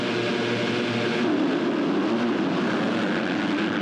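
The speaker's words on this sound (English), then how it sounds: "The bike's revving up." A pack of MX2 and MX3 motocross bikes revs at the start of a ProMX championship race in Conondale, Australia, making a dense, steady engine roar that fills the whole stretch without a break.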